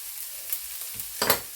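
Swiss chard hits a hot cast iron skillet, setting off a soft sizzle and frying hiss with a couple of brief rustling stirs. The sound is moderate and close, with no talking.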